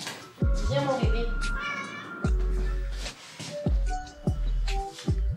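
A pet cat meows repeatedly at close range, a series of short rising and falling cries, while someone talks between and over them.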